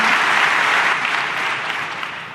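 A large audience breaks into dense, sustained applause welcoming the Second Lady of the United States, a steady wash of clapping that holds strong and slowly eases off.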